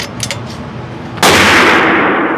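A Seekins Havak PH2 rifle fires a single loud, sharp shot of a 30 cal Berger Hybrid bullet load with a roaring report that rings on after the crack.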